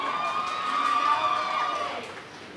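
A large crowd cheers at a robot combat sumo event, a sustained roar of voices that swells and then fades after about two seconds, with a few shrill tones riding over it.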